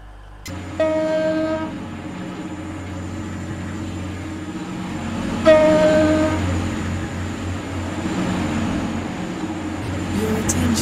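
Roblox Stepford County Railway train rumbling steadily along the track with a constant drone, two sharp horn-like tonal blasts early and midway, and a recorded announcement voice talking over it.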